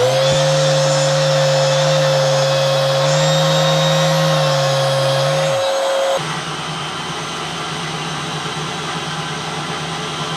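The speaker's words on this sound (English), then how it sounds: "I'll quickly sand that and then I'll put some wax on it" Power sander working a wooden trophy base, a loud steady whine holding for several seconds before cutting off, leaving a lower continuous hum.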